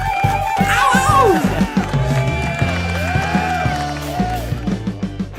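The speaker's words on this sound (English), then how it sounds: "Do we have an applause soundbite?" A canned applause-and-cheering sound effect plays during a casual talk show, crowd cheers and whoops mixed with a musical jingle, loud and bright, lasting a few seconds with voices briefly over it.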